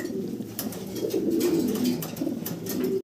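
Mundian pigeons in a loft coo close by, with continuous low throaty rolling coos and soft rustling, with no voices.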